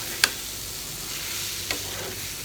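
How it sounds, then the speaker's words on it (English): A moong dal kachori filling is stirred in a pan, a soft continuous sizzle with two brief scraping clinks of a spoon against the pan. "Mix everything."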